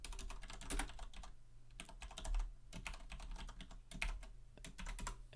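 Steady, fairly rapid typing on a computer keyboard while writing code for a programming tutorial, keystrokes clicking in bursts with brief pauses, close and clear with no talk.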